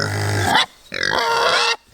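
Two bursts of loud, nasal animal calls, close by, with a short silence between them, like hungry pigs squealing and grunting.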